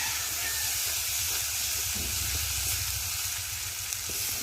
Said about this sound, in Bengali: এই মশলাটা সুন্দর করে ভেজে নেব।